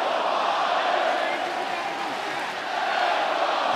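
A UFC Fight Night arena crowd roars for Kevin Holland, a loud, continuous wall of cheering and crowd noise with a commentator talking over it.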